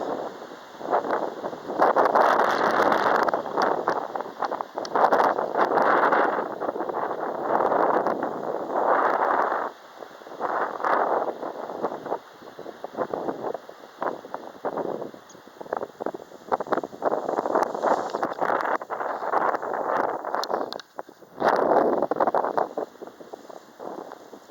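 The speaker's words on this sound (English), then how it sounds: "Here it is. The heavy wind." Heavy wind roars and buffets against the microphone in long surging gusts. The gusts swell and drop over the whole stretch with brief lulls between them, loud and close, and no voices are heard.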